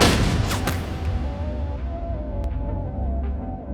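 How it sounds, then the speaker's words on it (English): A muffled gunshot goes off with a dull burst at the start, then a dense rumbling wash of noise fades slowly, with faint sharp cracks in the background. "A muffled gunshot rang out,"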